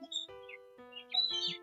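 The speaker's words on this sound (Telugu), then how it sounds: "పక్షులు కిలకిలా ఉంటున్నాయి" Small birds chirp outdoors near a home garden with a mango tree and potted plants, giving quick, bright tweets and short calls that repeat close by over a steady background.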